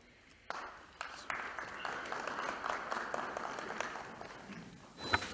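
Audience applause for a finance minister at a media briefing, a modest round of clapping that starts abruptly and continues steadily at moderate loudness for several seconds.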